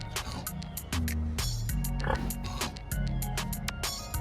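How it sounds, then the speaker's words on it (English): Pigs at a petting zoo oinking and grunting in short repeated bursts, fairly close, over steady background noise and a voice speaking nearby. "What does the piggy say? What does he say? Oink, oink."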